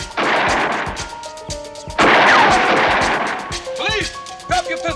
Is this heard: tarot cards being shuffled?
no